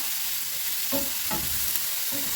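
Mushrooms sizzle steadily in a hot, dry pan, with a few soft scraping stirs breaking through the frying hiss.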